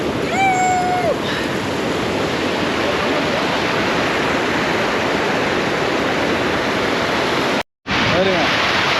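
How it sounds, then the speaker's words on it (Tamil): River water rushing over a check dam on the Kosasthalaiyar river at Thamaraipakkam, a loud, steady broadband roar with a brief cutout near the end, a whistle-like tone at the start. "பாருங்க தண்ணியோட ஃப்ளோ செம்மையாக இருக்குது"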